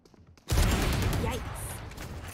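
Rapid weapon fire in the tactical shooter Valorant, a sudden loud burst that sustains as a dense, continuous barrage for about two seconds after a moment of quieter game sound.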